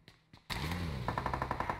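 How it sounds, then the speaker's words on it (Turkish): Automatic gunfire from PUBG Mobile bursts in after a few faint shots, a loud, rapid string of evenly spaced cracks that continues steadily to the end, with no voices. "Bak silah sesleri gelmeye başladı."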